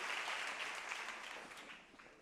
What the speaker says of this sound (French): Vous pouvez les applaudir très très fort encore, s'il vous plaît.